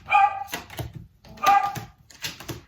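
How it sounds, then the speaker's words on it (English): A dog barks twice at close range, two loud, sharp bursts about a second and a half apart, each trailed by shorter yips, with no talking over them. "we don't love her barks"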